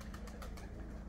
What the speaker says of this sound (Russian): Он бы уже сел, был бы взрослый голубь, он бы уже сел.